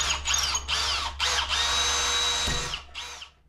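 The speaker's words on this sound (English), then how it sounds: "That was the first pilot hole I drilled, and it was too low, actually." Power drill boring a pilot hole near an electric meter during a 200A service upgrade: several short high whining bursts, then one long steady run that winds down, loud and close, with no talking.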